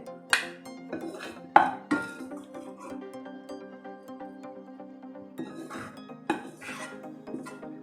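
Softened dates scooped into a metal bowl, heard as sharp close clinks and scrapes of a spoon against the bowl, irregularly spaced with quieter rubbing in between.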